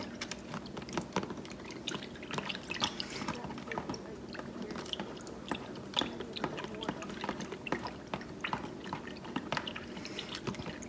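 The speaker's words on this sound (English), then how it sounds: "she's going to take a little skewer and stir it around a little bit in there" A skewer stirs fragrance into melted candle wax, making soft, irregular taps and light scraping clicks against the container, close and fairly quiet against a faint background hum.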